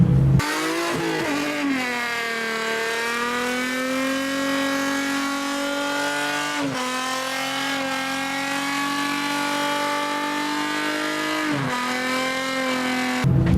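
An Infiniti G35 drift car at a drift event holds a loud, sustained high-revving engine note that dips briefly a couple of times, with tire squeal blended in.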